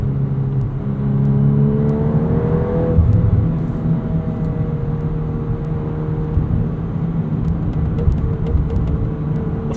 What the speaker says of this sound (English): Rev limiter's fun.